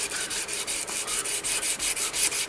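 Abrasive paper rubbed by hand along a hardened steel hunting knife blade, a steady rhythmic scratching of back-and-forth strokes close up, with no talking.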